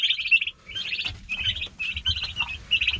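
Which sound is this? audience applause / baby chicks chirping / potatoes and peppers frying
baby chicks chirping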